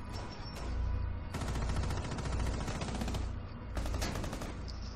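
Gunfire in a shooter video game, rapid automatic bursts crackling in quick succession, moderately loud and continuous with brief pauses between volleys.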